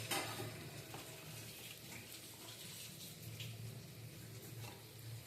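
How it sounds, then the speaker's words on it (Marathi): Masala rice with fresh coriander being stirred in a pan, a soft scraping and gentle sizzle that runs continuously and stays fairly quiet. "कोथिंबीर टाकून चांगलं हलवून घ्यायचं आहे"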